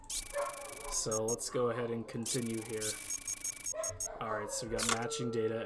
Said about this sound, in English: My dogs are very noisy.